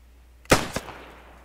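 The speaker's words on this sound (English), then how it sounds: "Everyone ready for the gunshot?" A single gunshot in the World War I shooter Beyond the Wire, a sharp loud crack with a second shorter report a beat later, then a fading echo tail against a quiet background.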